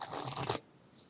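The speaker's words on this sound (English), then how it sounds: "Give the cards a mix," A deck of playing cards is riffled and mixed for a card trick, a quick close flurry of papery flutters lasting about half a second before falling quiet.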